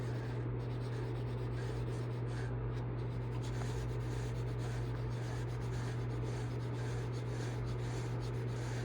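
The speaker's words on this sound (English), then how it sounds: "apply my special pen wax with the lathe off. Again, I'm going with the grain." Polishing wax is rubbed along the grain of a wooden pen blank while the lathe is stopped, making a soft, continuous scrubbing friction over a steady low background hum.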